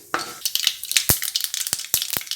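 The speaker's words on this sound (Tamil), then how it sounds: "கடுகு பொரிய ஆரம்பிச்சிருச்சு" Sharp crackling pops burst irregularly over a soft sizzle as mustard seeds splutter in hot oil, close and fairly busy.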